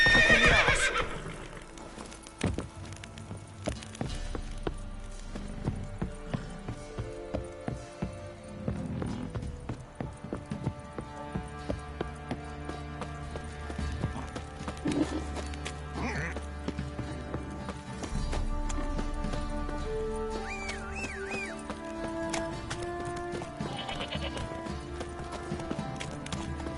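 Roach the horse gallops in The Witcher with rapid, continuous hoofbeats and loud neighs, while someone talks intermittently over the game sounds.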